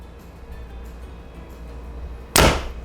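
A Bowtech CP30 compound bow is shot once, making a single sharp, loud snap of release near the end after a quiet stretch of room noise.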